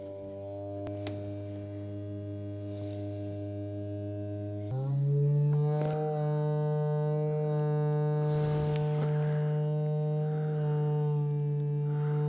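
An IPC Irwin vibration generator driven by a signal generator gives off a steady electric hum with strong harmonics that jumps to a higher, louder pitch partway through, with faint rattles on top.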